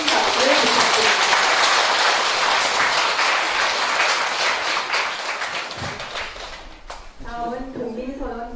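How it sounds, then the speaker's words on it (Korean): Audience at a Buddhist temple ceremony marking the start of a thousand-day prayer gives loud, sustained applause filling most of the clip, thinning near the end as a voice begins speaking. "다시 한번 감사의 큰 박수를 부탁드립니다"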